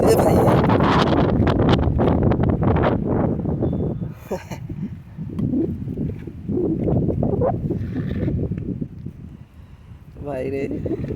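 Strong wind from Cyclone Dana blows steadily and roughly outdoors in Odisha, a heavy gusting rush that runs through the whole stretch while someone talks over it.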